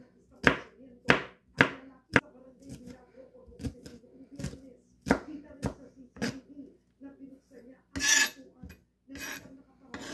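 A knife chops food into small pieces for Filipino pork hamonado, sharp irregular thuds and taps on a board, close and distinct, with quiet gaps between bursts of cuts.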